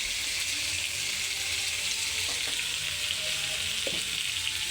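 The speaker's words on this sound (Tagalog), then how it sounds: "Habang ating ginigisa." Food sautéing in a pan with pepper and a little salt, producing a continuous loud sizzle with brief clinks of stirring.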